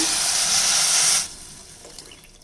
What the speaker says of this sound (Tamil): இப்போ நான் புளி தண்ணி தண்ணியுமா சேர்த்து ஒரு டம்ளருக்கு நாலு அளவுக்கு ஊற்றிக்கிறேங்க